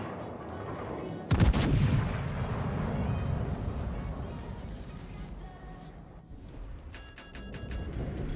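Battleship main guns fire a salvo in World of Warships, one sudden loud booming blast followed by a long rumbling roar that fades over several seconds, with faint game sound effects near the end.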